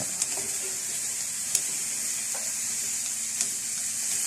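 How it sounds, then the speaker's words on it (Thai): Peeled shallots dry-roasting in a pan for an old-style northern Thai black chili paste, a soft continuous sizzle and hiss with a few faint clicks of stirring, heard alone with no talk. "พอเสร็จแล้วก็มาคั่วนะครับ คั่ว"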